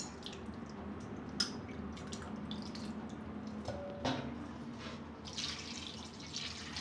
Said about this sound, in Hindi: ठंडा पानी में इसे धो लेते हैं